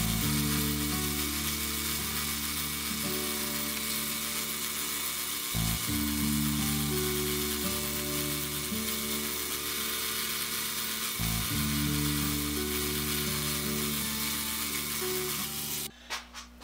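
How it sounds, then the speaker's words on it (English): A lathe runs with a steady tonal hum while a center drill works a depth stop screw, broken by two brief dips as the cut pauses, then a clatter as it stops. "And we'll center drill it."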